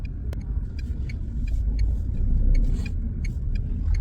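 A car being driven, with a steady engine rumble and road noise from inside the cabin that swells slightly midway. Faint ticks sound over it, and no one talks.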